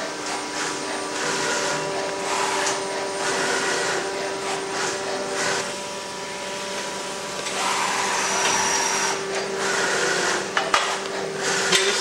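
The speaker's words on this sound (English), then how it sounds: "This is the Filotec automatic load, turn, and unload scoring machine." A Filotec automatic load, turn and unload CNC scoring machine runs steadily and loud, a continuous broadband mechanical whir with faint clanks and a few sharp knocks near the end, no speech.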